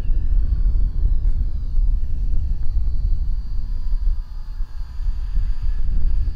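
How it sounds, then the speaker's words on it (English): Gusty wind buffets a microphone outdoors, a steady low rumble throughout, with the faint whine of a tiny RTF mini T-28 Trojan RC plane in flight overhead. "Wind's come up."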